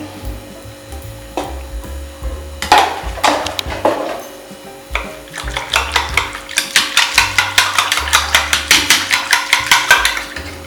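Buttermilk is beaten vigorously in a bowl, making scattered scraping strokes that settle into a fast, steady rhythmic whisking, close and clear, with no talking.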